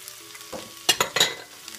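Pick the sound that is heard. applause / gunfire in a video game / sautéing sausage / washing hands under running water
sautéing sausage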